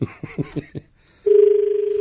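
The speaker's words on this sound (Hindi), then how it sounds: "मिलाओ सक्षम को फोन, अभी मिलाते हैं भाई" A phone call is placed: a few short clicky bursts, then a steady, continuous ringing tone from the handset, heard close and clear without talk.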